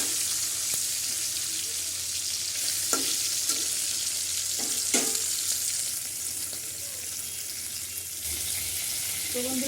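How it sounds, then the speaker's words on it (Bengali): Pieces of carp fry in a pan, giving a steady close sizzle with occasional pops and spatters as the fish crisps in hot oil. "এই মাছ লাল লাল করে ভেজে নেব।"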